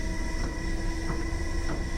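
A London Underground Piccadilly Line train running in the rain, heard from the cab as a steady rumbling roar with constant tonal whine and faint rhythmic clicks from the wheels.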